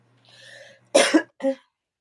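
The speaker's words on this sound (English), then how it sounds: "It's just that little dry cough at the end." A soft breathy sound is followed by two quick dry coughs, close and fairly loud, with a short third cough after a brief gap.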